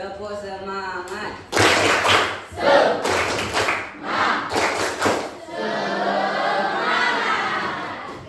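A school class joins in a rhythmic spirit-clap ice breaker, with group claps in quick bursts mixed with lively shouting and chanting voices before the room settles into a softer murmur.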